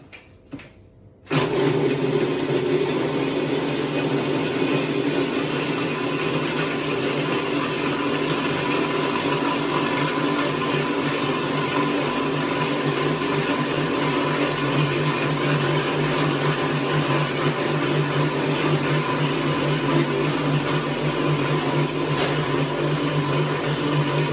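A food processor whirs steadily as it mixes a peppered, salted stuffing, starting after a brief quiet moment and then running loud and continuous at close range with no talk.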